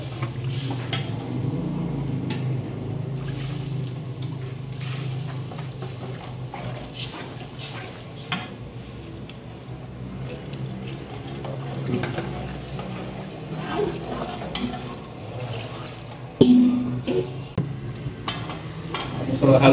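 Goat stew cooks in a caldero, a steady bubbling and sizzling simmer heard up close, with stirring clatter and a louder scrape near the end.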